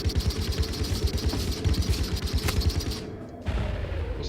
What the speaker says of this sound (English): just machine gun fire